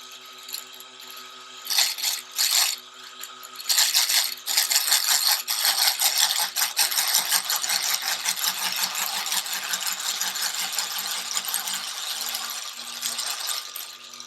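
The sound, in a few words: sewing machine winding a bobbin at full speed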